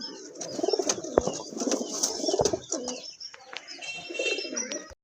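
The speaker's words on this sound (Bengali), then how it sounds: "আরেক জোড়া কবুতর, অনেক বড় সাইজের দেশি কবুতর" Large native deshi pigeons coo repeatedly up close in soft rolling calls, with scattered chirps and light movement sounds, at a market selling pigeons with eggs and chicks.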